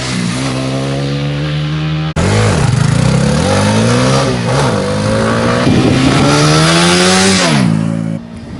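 A TVS Apache RTR 200 4V motorcycle accelerates hard, and its engine jumps suddenly to a loud, close roar after a steadier hum. The revs climb through the gears with brief dips between them before easing off at the end.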